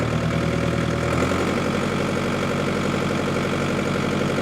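A tractor engine runs steadily close by, a loud continuous drone that shifts its pitch slightly early on, with no talk.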